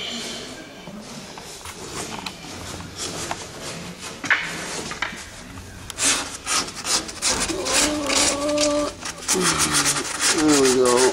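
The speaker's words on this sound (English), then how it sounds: "Kim is sanding away on the underside, cleaning up those welds." Hand sanding on the underside of a welded metal frame, cleaning up the welds: steady rubbing and rasping strokes that grow louder and busier toward the end, with voices talking over the work.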